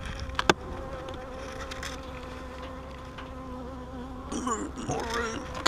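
Bees buzz steadily inside a full, heavy beehive box being moved during hive splitting, a dense close drone with sharper flyby buzzes rising toward the end.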